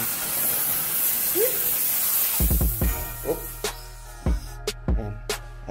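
A spray bottle hisses in a dog kennel, one sustained spray followed by a series of knocks and clatters close by.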